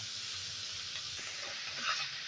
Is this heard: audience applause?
no